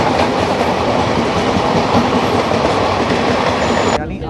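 The Rajdhani Express 20839 to Ranchi runs on its rails, a loud, steady rumble with rhythmic clickety-clack of wheels heard from inside the coach, ending abruptly.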